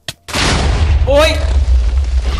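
An explosion in Minecraft bursts loud and close after a brief click, a broad rumbling blast that lingers with rolling debris and a crackling swell before fading.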